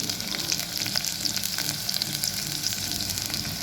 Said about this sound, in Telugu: అలా వేపుకొని చూడండి, నూనె పైకి తేలే వరకు వచ్చింది అంటే వేగిపోయింది.